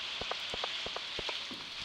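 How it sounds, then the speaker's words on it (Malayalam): Steady rain in the farming video game Stardew Valley hisses quietly throughout, with soft, evenly spaced drip-like ticks repeating in the background and no talking. "നല്ല മഴ പെയ്യുന്നുണ്ട് കേട്ടോ"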